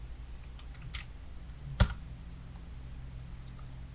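Quiet computer keyboard typing and mouse clicks while entering values, a few scattered light taps and one sharper click against a low background hum, no speech.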